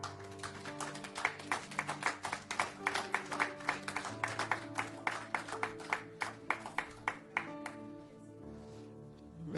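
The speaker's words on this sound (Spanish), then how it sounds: "¿Alguien le puede dar un aplauso al Señor?" A church congregation at a Mother's Day service applauds, with rhythmic, regular claps in a steady beat that rise and then fade out, while organ or keyboard tones sustain underneath.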